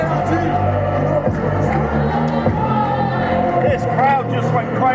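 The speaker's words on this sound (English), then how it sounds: "This crowd just went crazy." A wrestling show crowd roars in sustained cheering and whooping, a dense hubbub of many voices that swells in waves under an announcer talking.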